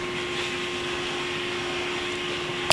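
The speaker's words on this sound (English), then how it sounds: "If you hear Hoover in the background, I'm deeply sorry." A Hoover vacuum cleaner drones steadily in the background, a constant mid-level motor hum with a faint whine that holds unbroken throughout, ending with a brief click.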